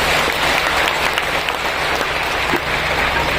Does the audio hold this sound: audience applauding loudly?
yes